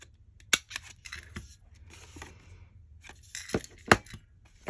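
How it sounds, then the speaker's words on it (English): Scissors snip through card stock in a handful of sharp, irregular cuts, close and fairly quiet, with light rustling of the paper between snips and no talking. "maybe cut it a little bit"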